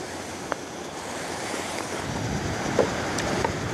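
Sea waves wash steadily along a seaside shore with a soft wind hiss, a continuous moderate surf with a few faint clicks nearby and no talk.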